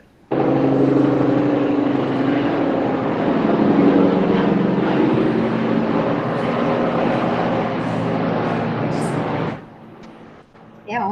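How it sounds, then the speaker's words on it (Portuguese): A helicopter passes overhead with a loud, steady rotor and engine drone that holds for around nine seconds, then drops off abruptly and leaves near-quiet behind. "Um helicóptero passando justamente assim."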